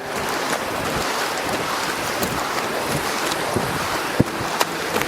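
Waves wash steadily onto the Mediterranean Sea shore in winter, a broad continuous surf rush mixed with wind buffeting, with a couple of sharp splashes standing out near the end.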